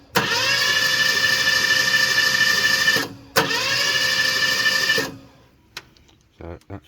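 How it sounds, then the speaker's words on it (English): A starter motor spins on a Ford Cortina Mk4 Ghia with a 2.3 V6 engine, giving two loud, steady whirring cranks of about three and two seconds with a short gap between, then stopping, followed by faint clicks. "I've put the starter motor on"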